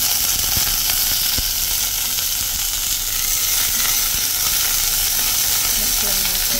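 Onions sizzling in a pan for braised fish maw with shiitake mushrooms, a loud, continuous frying hiss close by with occasional stirring knocks and no talking.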